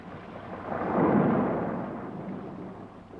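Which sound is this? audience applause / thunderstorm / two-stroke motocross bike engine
thunderstorm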